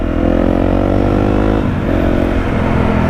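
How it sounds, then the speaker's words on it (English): A Yamaha MT-07 motorcycle engine runs loud and steady at close range, its revving note holding throughout with a slight dip and recovery partway, and no voices over it. "I'm gonna be on my MT-07 while I'm slagging off Honda"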